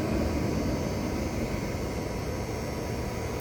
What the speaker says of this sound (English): I'm putting my hand over the intake of the push blower.